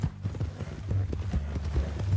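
Horse hooves clip-clopping in the video game Red Dead Redemption 2, a steady rhythmic trot of close, fairly loud hoofbeats on the ground over a low background rumble.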